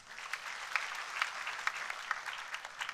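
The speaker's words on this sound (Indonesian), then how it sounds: "Mari berikan tepuk tangan bagi Tuhan." Congregation applauding in a church service, a steady wash of many hands clapping at moderate distance with no voices over it.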